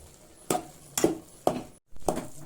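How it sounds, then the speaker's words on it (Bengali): About 50 grams of ghee being stirred in a cooking pot, a few distinct metallic scrapes and clinks of a spoon against the pan in an even rhythm, close and fairly quiet. "এবারে খুব ভালোভাবে নাড়িয়ে নিতে হবে এটা।"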